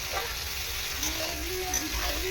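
Two chopped medium tomatoes sizzle and fry steadily in a pan while being stirred, a constant close hiss with soft scraping and faint talk in the background.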